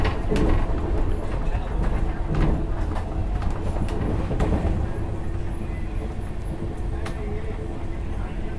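A Rajdhani Express, first-class AC, running on the New Delhi–Howrah line: a steady, loud rumble of wheels on rails with occasional sharp clicks from rail joints, heard from inside the coach.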